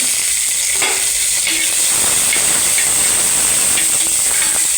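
Dried red chillies sizzle loudly in hot oil in a pan as fish curry is being cooked, a dense, continuous frying hiss that stays close and steady throughout.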